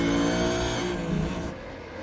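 A Supercars race car laps Winton Motor Raceway in iRacing, its engine holding a loud high-revving drone before the pitch drops and the car fades slightly as it slows through a corner.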